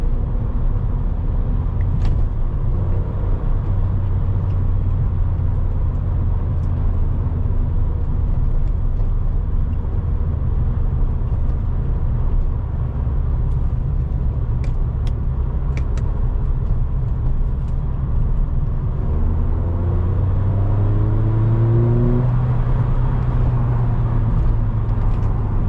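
A car cruises with a warped sunroof, producing a constant loud rumble of road and wind noise inside the cabin, with a rising engine note toward the end.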